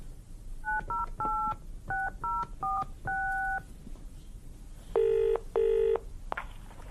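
A telephone number dialed with touch-tone keys: a quick run of short paired beeps in an uneven rhythm, then two longer, louder tones, clear and close with no talk.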